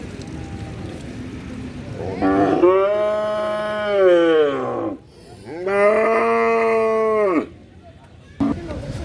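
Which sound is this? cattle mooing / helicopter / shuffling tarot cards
cattle mooing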